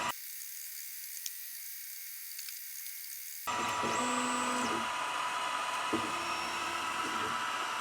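An engraving machine works letter by letter, a quiet faint hiss giving way to a louder steady mechanical whir with repeated tonal motor passes and stops.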